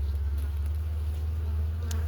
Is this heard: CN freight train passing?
no